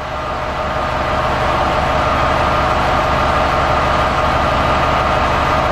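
An MMZ diesel engine in an MTZ/Belarus tractor idles at a steady low rumble, loud and close, with a constant drone and no variation in speed.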